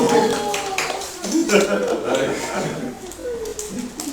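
Congregation applause in a church during a Sunday worship and baptism service, steady clapping that rises and falls beneath a voice speaking over it.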